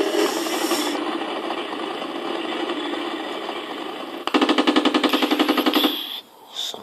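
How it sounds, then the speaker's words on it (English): Rapid bursts of gunfire in an Amiga tank video game, a rattling machine-gun-like stream that is close and loud, with a sharper pulsing burst near the end. "Somebody's firing at me."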